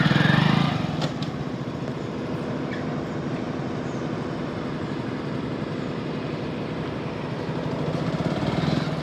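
A motorcycle is ridden smoothly in second gear, giving a steady, close-up engine drone that holds even throughout. It swells slightly at the start and end, with no talking.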